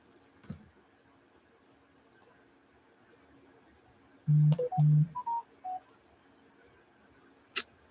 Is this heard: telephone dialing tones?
yes